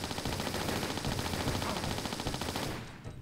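Uzi fire in the video game Tomb Raider IV: a long, rapid, loud burst of automatic gunshots rattling steadily for nearly three seconds before cutting off sharply.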